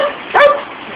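A single short, high dog bark, close and clear, against a quiet background.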